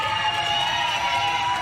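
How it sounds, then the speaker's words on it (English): A wrestling crowd at a live Thursday night show cheers and shouts for Riley Knox, a steady, dense roar of voices that fills the hall without any clear break. "Crowd definitely making some noise there for Riley Knox"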